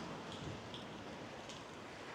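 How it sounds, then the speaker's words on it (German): Strong wind rushing past while cycling a city bike route in Nuremberg, Germany, a continuous, even, broadband roar buffeting the microphone at a low level with no distinct events or speech. "Oh, ziemlicher Wind."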